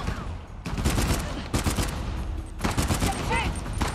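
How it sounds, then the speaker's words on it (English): Gunfire during a fight in the video game Uncharted: The Lost Legacy, with dense bursts of shots and fusillades sounding near and loud, broken by brief lulls, over continuous game ambience and effects. "Getting into a gunfight already,"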